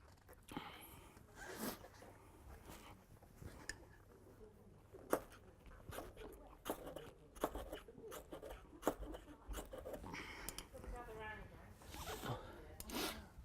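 A ferro spark rod is struck repeatedly against a cut-open cramp ball fungus in a cramped spot, giving sharp raspy scrapes and clicks in irregular bursts, close and fairly loud, with some breathing and movement noise between strikes.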